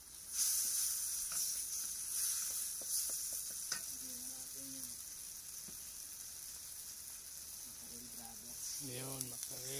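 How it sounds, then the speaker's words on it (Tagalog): Garlic, onion and tomato sautéing in a small camping pan give a faint, steady sizzle with occasional stirring clinks, while voices talk quietly over the cooking throughout. "Nagisa na po yung bawang, sibuyas, kamatis."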